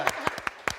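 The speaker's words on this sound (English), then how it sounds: "so a little round of applause" Four quick, evenly spaced hand claps sound close by at a game show prize moment, forming a brief scattered round of applause.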